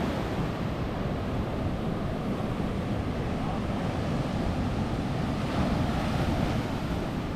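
Steady, loud roar of ocean surf breaking on the sand at Cape Point, Hatteras, continuous with wind buffeting the microphone and no voices.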